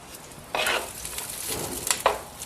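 Onion, green chilli and garlic sauté in hot oil, with soft sizzling and a few scraping stirs of a spoon against the pan in short bursts, heard up close with no talking.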